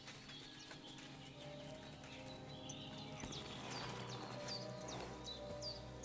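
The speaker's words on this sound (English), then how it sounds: "gonna mount the horse." Horse hooves clip-clopping at a steady walking pace in the medieval video game Kingdom Come: Deliverance II, fairly faint, with birds chirping in the outdoor ambience and no speech.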